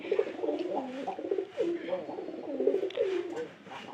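Pigeons in a home loft, including an older pigeon that is pairing up, coo steadily and close by in repeated low, rolling phrases that overlap throughout.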